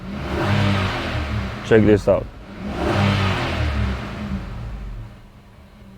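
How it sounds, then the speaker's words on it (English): An Infiniti QX80 engine is revved twice, each rev swelling and fading under a short spoken remark, with the engine rumble staying moderately loud and close. "I'm gonna rev up the engine."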